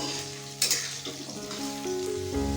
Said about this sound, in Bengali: আলুগুলোকে আমরা লাল লাল করে ভেজে নেব।